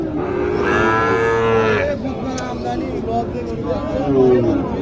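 Sahiwal cattle at a busy cattle market give long, loud moos, one stretching for a couple of seconds and others following, over people talking and murmuring around them.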